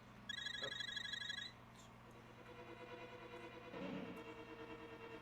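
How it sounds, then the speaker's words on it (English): Mobile phone ringing nearby during a Legend of Zelda: A Link to the Past play session, a short burst of electronic trilling chirps lasting about a second over quiet game-room background. "That's my phone."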